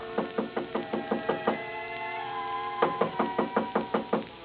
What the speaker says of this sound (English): I had just put down the phone when someone knocked on the door.